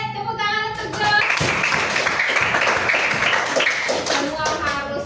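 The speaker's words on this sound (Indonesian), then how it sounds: "tepuk tangan untuk Jos" A classroom in Indonesia breaks into a few seconds of dense group applause from the students, with voices heard around it at the start and end.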